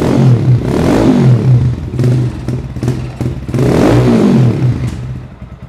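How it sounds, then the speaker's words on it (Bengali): A Speeder NSX 165R motorcycle engine revs loudly and close by in repeated surges, each throttle blip rising and falling with a rough, thumping exhaust note before easing off at the end. "বাইকটার সাউন্ড আসলে কতটা লাউড এবং সুন্দর লাগে"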